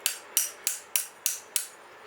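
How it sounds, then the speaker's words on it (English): Six evenly spaced sharp hammer strikes flatten a metal bracket for a catch can on a 2007 Hyundai Accent, each bright clang decaying quickly, close and alone. "I basically just flattened everything out with a hammer."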